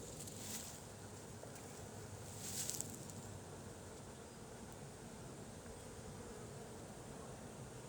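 A swarm of honeybees buzzes steadily in a dense, continuous drone, the hum holding at an even level with a brief swell near the middle, no voices over it.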